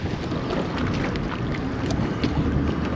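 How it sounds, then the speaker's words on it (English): Steady blustery wind roars across a microphone outdoors at a lake, a dense rumbling rush with gusty buffeting and no voices. "I thought it was less windy over here."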